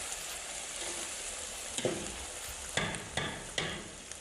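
A spoon stirs salted green chickpea curry in a pan over a constant quiet sizzle, with a few soft scraping strokes near the end.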